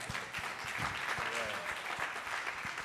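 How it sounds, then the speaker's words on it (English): Audience applause at a press conference for the African American Day Parade, a steady wash of clapping throughout with scattered louder claps and a voice briefly heard over it. "Give her a big round of applause."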